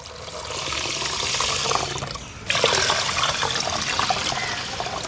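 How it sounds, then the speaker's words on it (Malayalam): Steady rush of water pouring into a cooker of rice, close and continuous, swelling louder halfway through, with no voices. "അരി എടുത്ത അതേ പാത്രത്തിൽ രണ്ട് പാത്രം വെള്ളം ഒഴിച്ചു കൊടുക്കണം"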